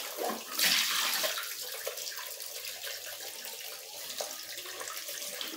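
Water runs and splashes steadily while dirty water is rinsed out of a shoe, starting with a louder burst of spray that then settles into a continuous close pour.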